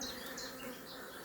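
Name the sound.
honeybees flying around an opened hive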